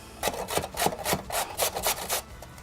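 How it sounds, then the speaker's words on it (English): Carrot rasped against a grater in quick back-and-forth strokes, about a dozen close scraping passes in steady rhythm, each a short gritty rub, with no talking. "so I'm going to grate the carrot"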